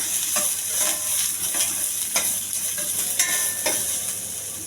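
Onions and ginger frying in a pan for millet upma give a steady, close sizzle, broken by a few sharp spatula scrapes and clicks as they are stirred; no one speaks.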